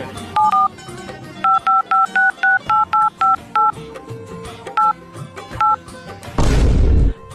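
A telephone number dialed on a keypad: a quick series of about a dozen short paired touch-tones, loud and close, followed by a brief burst of harsh noise at the end.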